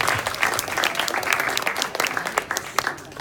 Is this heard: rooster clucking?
no